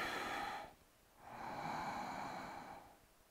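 Deep, slow breaths during a heart-opening yoga pose: two long, close airy breaths, one ending after a brief pause and the next drawn out and gradually fading.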